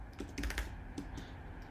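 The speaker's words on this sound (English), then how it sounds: "I'm going to be typing this" Quick bursts of typing on a computer keyboard, a cluster of soft close key clicks followed by a few scattered taps, quiet and without speech.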